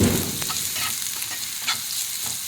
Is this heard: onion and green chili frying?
yes